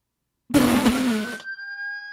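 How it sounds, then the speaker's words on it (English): A short siren sound effect played as a joke on a sports podcast, starting abruptly after a moment of silence, loud and close, with a wavering tone that settles into a steady whine before cutting off. "I was playing a siren as a joke too."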